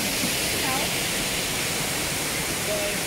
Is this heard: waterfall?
yes